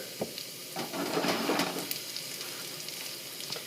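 French fries sizzle in hot oil in a saute pan with a steady, close frying hiss that swells briefly in the middle, broken by a few light clicks of utensils.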